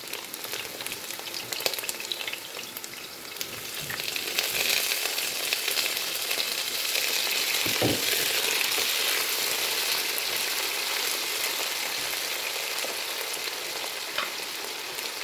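Potatoes frying in a pan, a steady loud sizzle with crackling and occasional stirring clatter throughout, no voices.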